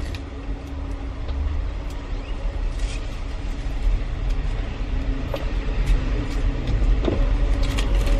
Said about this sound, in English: driving out of the driveway